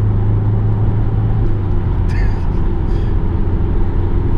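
Ford Focus 1.6 TDCi diesel car accelerating, a constant loud low engine drone heard from inside the cabin, with a couple of brief higher sounds on top.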